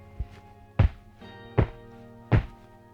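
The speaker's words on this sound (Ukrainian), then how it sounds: "Просто послухайте, який глухий і монолітний тут звук, коли я пригаю." Three heavy, dull thuds about a second apart, deep and solid, of someone jumping on the floor of a factory-built barnhouse, with a lighter knock just before the first.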